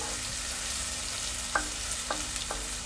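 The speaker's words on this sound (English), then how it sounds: "you don't really want to brown the onions, you want to saute them till they are sort of transparent." Onions sautéing in a pan with turmeric, chili powder and ginger for prawn curry: a soft, steady sizzle runs throughout, broken by three brief scraping stir strokes near the end; no talking.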